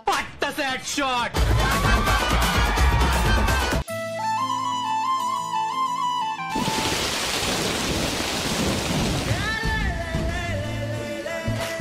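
Heavy rain and rumbling thunder fill the second half, preceded by short bursts of music and vocal sounds.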